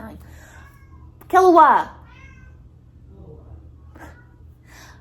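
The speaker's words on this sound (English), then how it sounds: "Sorry, my cat is meowing." A house cat lets out one loud, close meow with a falling, whiny pitch, followed by fainter mews amid quiet room noise and a soft voice calling out.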